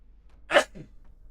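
One short, forceful sneeze close by, a breathy burst with a softer tail, against a quiet background hum.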